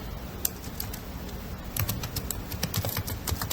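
Irregular clicks of fingers typing on a computer keyboard while entering text into a bulleted list, moderately close, with no talking.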